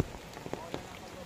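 Rain patters steadily on surfaces outdoors, with a few sharper drop taps standing out in a short, fairly quiet wash of noise.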